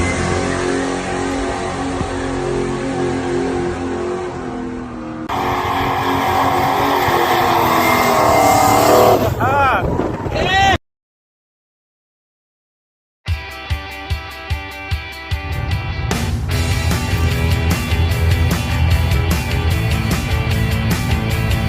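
A car revving hard and roaring through a burnout, the engine climbing loudly before a brief silence, then sharp repeated bursts and a sustained heavy engine drone.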